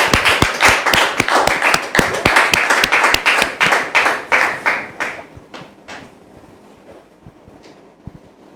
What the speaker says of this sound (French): Est-ce qu'on peut rendre gloire au Seigneur, s'il vous plaît, par des applaudissements